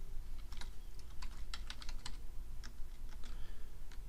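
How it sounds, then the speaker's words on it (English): Keys clatter on a computer keyboard while a name is typed into a Microsoft Access database form, a quick irregular run of close, crisp taps over a low steady hum, with no voices. "So I've got that typed in, Professor Entry."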